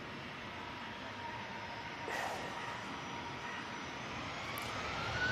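Ryanair jet airliner engines roaring steadily as the aircraft comes on, a broad continuous rumble and hiss at moderate distance, with a slight swell in loudness near the end.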